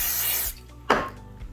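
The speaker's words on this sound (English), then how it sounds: "take a little Pam spray." Two short hissing bursts from an aerosol can of Pam cooking spray onto popcorn, the first longer, the second a quick puff, close up with no talking.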